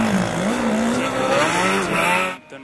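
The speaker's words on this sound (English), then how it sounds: "So yeah, it's a good show as we got car number 113 coming past on the" Formula Student race car on the track during an endurance event, a loud, rising and then falling engine whine as the car passes close by and fades away at the end.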